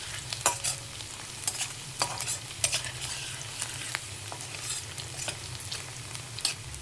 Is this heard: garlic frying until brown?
yes